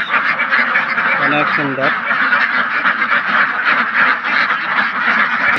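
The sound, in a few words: ducks quacking at a duck farm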